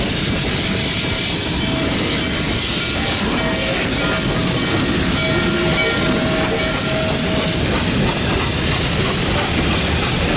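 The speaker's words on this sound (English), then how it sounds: "Norfolk & Western 611 is a 484 Northern type J-Class steam locomotive built by the railroad in 1950 at their Roanoke shops." Norfolk & Western 611, a 1950 Roanoke-built 4-8-4 Northern J-Class steam locomotive, roars past in a loud run-by with heavy steam hiss, rumbling rail noise and a sustained whistle.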